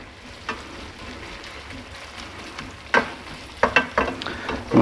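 Ground meat for sloppy joes browns in a hot pan with a steady low sizzle, broken by a few sharp scraping stirs of a utensil toward the end.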